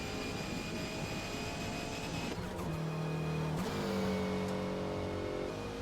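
Race car engines in Forza Motorsport during an endurance race pit stop, a steady loud engine drone with whining tones that shift pitch partway through as cars slow and change speed.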